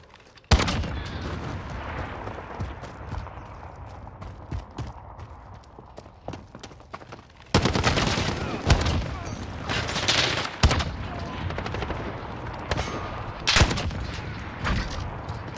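Gunfire from the RYTEC AMR .50 cal rifle in Modern Warfare, with sharp cracking shots spaced irregularly over a quieter bed, growing denser and louder in the second half with several heavy blasts.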